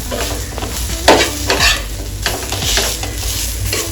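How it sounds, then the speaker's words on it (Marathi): Onion frying in a pan until reddish-brown for a Maharashtrian misal curry base, a dense close sizzle broken by several loud stirring scrapes of a spatula against the pan. "हे बघा, आता माझा कांदा चांगला लालसर भाजला गेलेला आहे."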